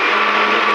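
A mixer grinder whirs at full speed through soaked rice and chana dal, a loud, steady, dense motor whine with no pauses and no talking.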